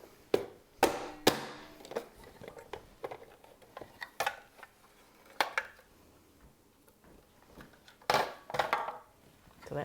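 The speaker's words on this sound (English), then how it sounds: "This is handy, especially if you're chopping a lot of onions" A hand chopper works through onions in a kitchen, sharp irregular clacking chops and taps scattered across the stretch, some in quick pairs, with quieter handling sounds between.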